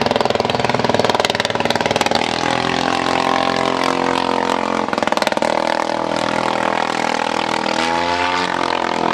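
A 1909 vintage aircraft engine running at an air show, loud and close, with a steady rough mechanical drone and rhythmic firing pulses that surge briefly.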